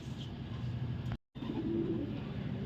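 Soft, low pigeon cooing runs through most of the clip with a brief silent gap near the middle, steady and fairly close.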